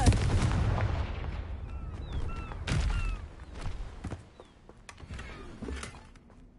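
A Confringo explosion spell from a Hogwarts wizarding video game bursts as a series of sharp blasts and cracks over a rumbling low background, with a few whistling streaks between the hits.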